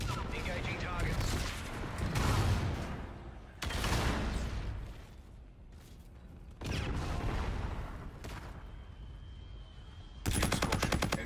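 Scarab drone in Call of Duty: Infinite Warfare firing at targets, sustained loud bursts of automatic gunfire cutting in and out, with a quieter gap and a final dense rattling burst.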